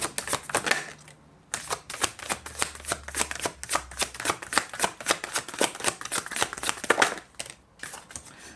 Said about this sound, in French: Je vais vous tirer une dernière carte pour le conseil.